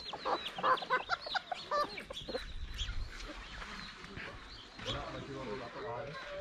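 A chicken clucks repeatedly on an island beach, close and fairly quiet, while people talk casually nearby throughout.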